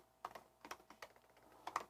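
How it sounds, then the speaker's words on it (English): Someone types on a computer keyboard while writing code, a quiet, nearby patter of uneven keystrokes arriving in small bursts with short pauses between them. "I'm really not typing well today."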